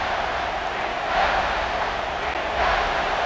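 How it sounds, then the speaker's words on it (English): A simulated stadium crowd in College Football 26 roars to push the defense for a red zone stop, a steady, loud wash of cheering that swells twice without pause. "This crowd is trying to inspire this defense to make a big red zone stop"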